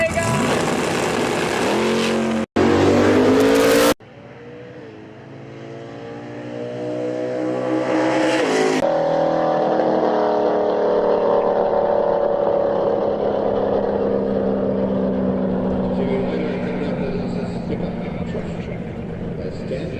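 A drag race car at Toronto Motorsports Park, a Vega, making a fire run: loud, close engine roar with sharp bursts early on, then a long sustained scream that slowly fades, with an announcer talking over it.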